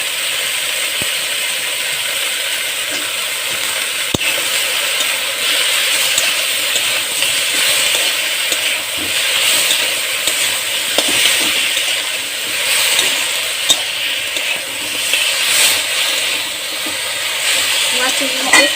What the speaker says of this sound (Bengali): খুবই অল্প তেলে বন্ধুরা ভাজবো যে এটা ভাজা হচ্ছে